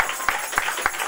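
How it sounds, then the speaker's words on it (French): Church congregation applauding during a festive anniversary service, a short spell of rhythmic clapping with a few distinct louder claps. "Donnez une main d'acclamation pour le Seigneur Jésus-Christ."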